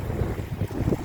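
Wind buffets the microphone at a beach by the sea, producing loud, gusty low rumbling with surf mixed in for a brief moment.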